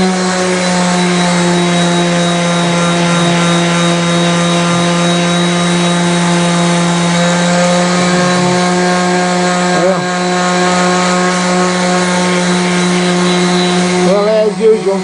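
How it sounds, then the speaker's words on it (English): A steady, loud power-tool whine with a constant motor hum runs throughout, a small orbital sander buzzing continuously on a wooden plaque board, with only slight changes near the end. "Let's see if this little orbital can get it out."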